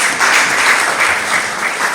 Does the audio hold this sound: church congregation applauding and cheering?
yes